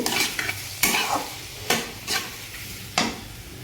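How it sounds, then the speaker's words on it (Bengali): Carrot fry with cumin and coriander powder being stirred in a pan, with a steady close sizzle broken by several sharp scraping strokes of a utensil at roughly regular intervals. "একটু জিরা পাউডার এবং ধনে পাউডার দিয়ে একটু নিয়ে নেব"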